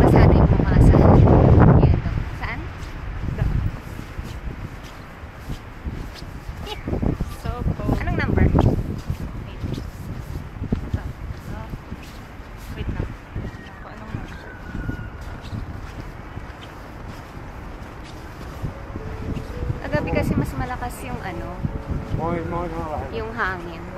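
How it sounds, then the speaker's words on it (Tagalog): Gusty wind blows outdoors on a wet day in Helsinki, rumbling against the microphone in broad bursts, loudest at the start and again near the end, while people talk intermittently over it. "Yung hangin."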